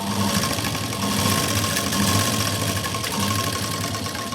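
A sewing machine runs steadily, stitching a seam along the side of a fabric katori (bra cup), with a continuous mechanical hum and a rapid chattering rhythm that holds for the whole stretch at close range, with no voices.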